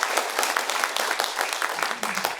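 An audience at a civic talk in Boryeong claps steadily for a few seconds, a dense, lively patter filling the hall, with a voice briefly heard beneath it.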